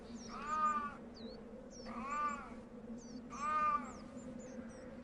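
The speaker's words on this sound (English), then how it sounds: "Wild cats are by nature solitary and highly territorial." A wild cat calls three times in a cold, snowy forest, each a drawn-out, wavering meow-like wail evenly spaced and fairly close, with bird calls chirping faintly over a low steady background hum.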